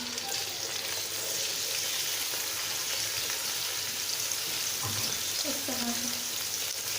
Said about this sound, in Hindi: तो सबसे पहले हम ये प्याज इसमें शामिल कर देते हैं।